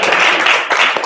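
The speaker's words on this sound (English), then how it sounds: "let's get a round of applause for" Audience applause after a call for a round of applause at an intro session, a dense, steady wash of many hands clapping throughout with no talk over it.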